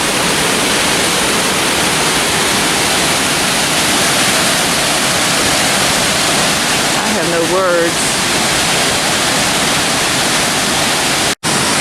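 Broad, steady rush of a Tennessee waterfall cascading over rocks, loud and continuous throughout, with a brief voice speaking over it near the end.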